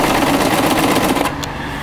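Sewing machine stitching rows across a homemade weighted blanket filled with pellets, running steadily and loud close by for most of the clip before easing off near the end; no one speaks.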